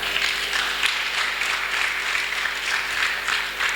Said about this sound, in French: Donnez une acclamation